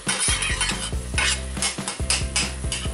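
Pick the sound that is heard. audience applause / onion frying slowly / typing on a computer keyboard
onion frying slowly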